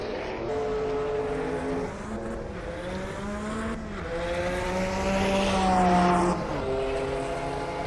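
Group C race cars lapping Spa in a sim racing game, a loud, sustained engine drone whose pitch climbs and falls through gear changes, with no voices over it.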